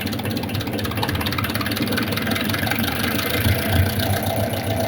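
A Tata truck, a 2020 TataX2 model with a freshly serviced fuel pump, idles steadily up close with a deep, continuous engine rumble and a slight swell near the end, with no one talking.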